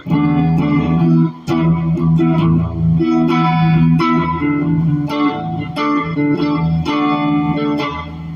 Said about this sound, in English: I'm going to come back and play a distortion solo over the top of it.